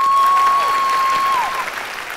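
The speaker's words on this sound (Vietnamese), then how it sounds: "Rồi một tràng pháo tay" Studio audience of a Vietnamese TV game show applauding, a loud dense burst of clapping that fades slightly over two seconds, with a steady electronic tone underneath.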